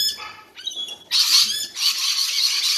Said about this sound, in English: Whole heap of cockatoos in the tree up there.